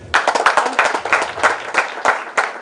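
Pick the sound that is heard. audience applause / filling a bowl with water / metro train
audience applause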